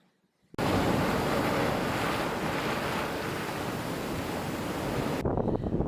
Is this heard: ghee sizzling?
no